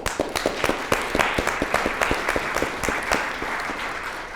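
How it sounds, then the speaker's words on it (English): Church audience gives loud, close applause for a music group, with distinct individual claps popping out over a dense wash of hand clapping that holds steady for several seconds. "Let's give them applause again."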